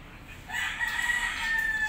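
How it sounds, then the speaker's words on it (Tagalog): A rooster crows in a drawn-out call outdoors on a clear morning, moderately distant and faint over a quiet background. "Manok,"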